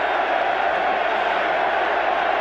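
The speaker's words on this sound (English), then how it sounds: "The crowd is chanting," A large stadium crowd at a Green Bay Packers at Chicago Bears football game fills the air with a dense, steady roar of chanting voices, loud and unbroken throughout.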